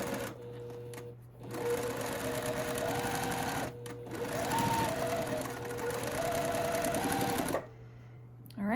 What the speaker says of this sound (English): Now we're going to sew these 2 pieces together.